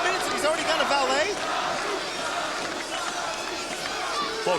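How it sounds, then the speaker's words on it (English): A large arena crowd at a wrestling match roars and chants in a dense, sustained wall of voices with shouts rising and falling, loud and continuous throughout. "Well, crowd obviously favoring Sabu in this match."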